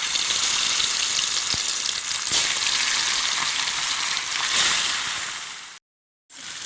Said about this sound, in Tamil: இதை எண்ணெயில் போட்டு பொரிச்சு எடுத்துடலாங்க